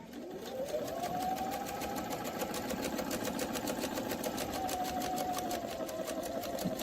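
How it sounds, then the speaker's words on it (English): A sewing machine stitches a full rotation of a template, a steady rapid needle rhythm running continuously at a constant pace with a motor whine rising at the start and dipping near the end, close and alone. "we're going to stitch a full rotation of the template"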